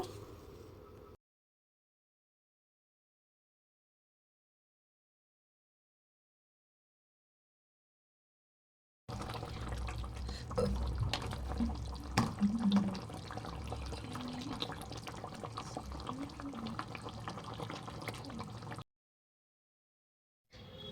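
Katla fish kalia gravy bubbles in a pan, a low, thick burbling with watery splutters that runs for about ten seconds between stretches of silence, nobody speaking.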